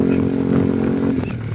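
Tuned 261cc motorcycle engine running, a loud, steady, close drone with a slight rattle through a short stretch.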